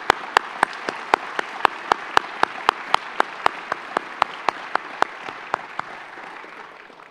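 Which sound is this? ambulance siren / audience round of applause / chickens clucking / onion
audience round of applause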